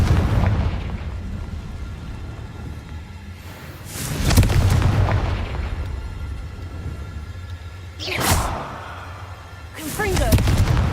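Confringo spell blasts in Hogwarts Legacy, three or four booming explosions spaced a few seconds apart, each a sharp burst over a low rumbling game backdrop.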